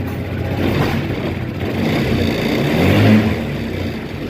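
A motorcycle engine fitted with a new piston, piston rings and rocker arms fires up and revs, a steady close mechanical roar swelling slightly toward the end, with no talking.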